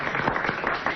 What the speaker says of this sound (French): On peut même l'applaudir